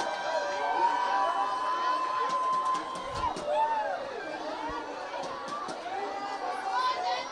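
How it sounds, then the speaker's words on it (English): A rugby crowd at a local club derby cheers, shouts and chatters as fans and children stream onto the field after the final whistle, a dense, steady roar of many voices with scattered whistles and excited shrieks throughout. "the crowd is storming the field for Progress"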